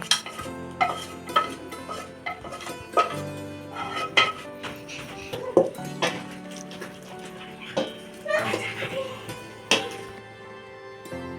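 A spoon stirs fried onion, ginger and garlic together in a mixing bowl, giving irregular close scraping and clinking knocks with light background hum.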